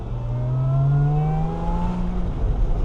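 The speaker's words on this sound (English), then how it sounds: "Hopefully you can hear that supercharger whine." Lotus Emira V6 with a supercharger accelerating hard, its rising supercharger whine climbing steadily in pitch over a loud engine drone, heard from inside the car with no talking.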